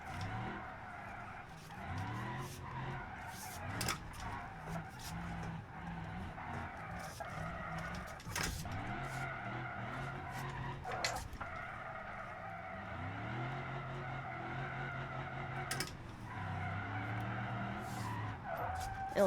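A custom drift truck in the BeamNG.drive racing game skids and squeals its tires through repeated slides, the engine droning steadily underneath, with sharp transient knocks scattered throughout.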